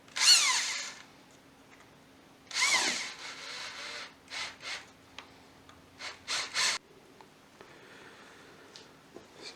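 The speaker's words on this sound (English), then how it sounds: "just going to screw it together here" A handheld power drill drives screws into a workshop piece, several short whirring bursts of varying length separated by pauses, close and loud against a quiet hum.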